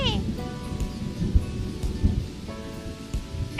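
Cartoon rain pattering steadily with low thunder rumbles, a soft, even wash of drops under the scene.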